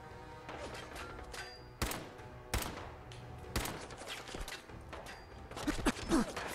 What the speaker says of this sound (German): Oh shit, jetzt schießt er auf mich.